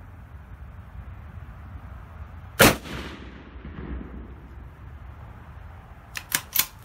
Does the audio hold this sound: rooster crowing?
no